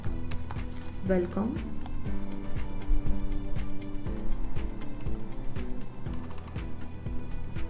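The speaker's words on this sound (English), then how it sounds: "For suppose I'm typing here" Quick runs of keystrokes from typing on a computer keyboard, clicking steadily under a voice and soft background music.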